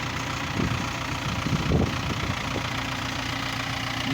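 A Yanmar FX305 30-horsepower diesel tractor engine runs steadily, a continuous low rumbling idle with a slight knocking texture and a few louder surges, close by and heard alone without talk.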